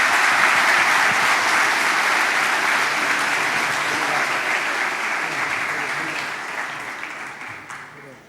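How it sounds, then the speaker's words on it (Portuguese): Sustained applause from a conference audience after a panel session, steady and dense for most of the stretch, then gradually thinning and fading toward the end. "Uma salva de palmas para eles aqui"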